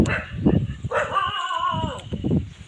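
A pack of four or five dogs at a garden with grazing cows bark in a few sharp close yelps, with one drawn-out howl-like whine in the middle.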